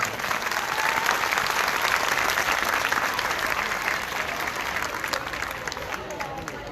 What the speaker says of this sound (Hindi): तो बिशप जी के लिए जोरदार तालियां हो जाए।